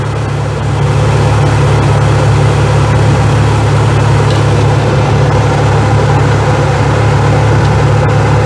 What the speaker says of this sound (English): check out that truck right there, huh? Look at the size of that thing